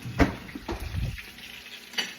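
Food sizzles in a frying pan with a few short scraping stirs of a spatula, fairly close and steady at a low level, with no talking.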